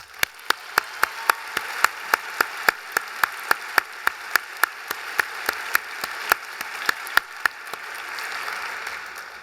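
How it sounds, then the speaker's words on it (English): Scattered applause at a university commencement ceremony: distinct, evenly spaced individual claps ring out over a soft, hissy background, a sparse and moderately distant clapping rather than a dense ovation. "Let us congratulate those individuals on their accomplishments with a round of applause."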